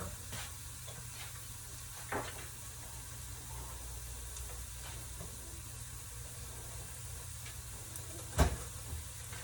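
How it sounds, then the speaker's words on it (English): Shrimp sauté in about a tablespoon and a half of butter in a pan, giving a faint, steady sizzle with a couple of soft clinks from stirring and no talk. "that's when I'm going to start like sauteing my shrimp in to get those brown"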